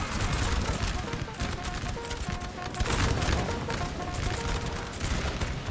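Artillery and musket volleys from a Napoleonic battle in the game Napoleon Total War, heard as a dense, continuous din of overlapping gunfire and booms, with scattered tonal calls and hoofbeat-like clatter mixed in throughout.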